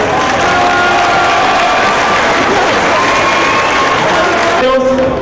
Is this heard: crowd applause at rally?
yes